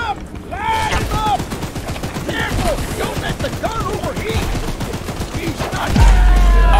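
Rapid bursts of gunfire in Choo Choo Charles crackle continuously, with voices talking excitedly over the shooting and a louder blast near the end.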